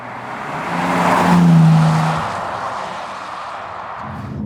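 A Bentley Continental GT engine accelerates with a deep, low rumble that swells to a peak around the middle and eases off, loud and close, with no talk over it.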